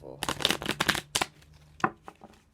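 A deck of tarot cards being shuffled by hand, a quick run of close, crisp riffling snaps followed by a few softer slides and taps.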